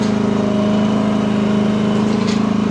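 A cheap mini excavator's small engine hums steadily with a low, even drone and faint rhythmic pulsing while it drives on its tracks, loud and close throughout, with no voices.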